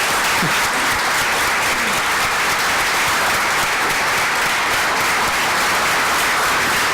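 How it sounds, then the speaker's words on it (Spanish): A large audience applauds the panelists at a cultural small-business forum, a dense, loud and continuous wash of clapping that holds evenly throughout without any talk over it. "Yo pedí un aplauso para los panelistas"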